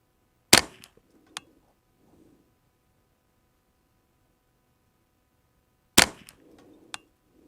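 Two sharp, loud rifle shots from a Ruger 10/22 with a CST CentriX-22 receiver, several seconds apart, each followed by a faint metallic ping and quiet outdoor stillness.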